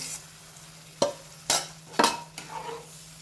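Spoon stirring smashed vegetables into pav bhaji in a pan, with four sharp scraping strokes spaced about half a second apart over a low steady hum and faint sizzle.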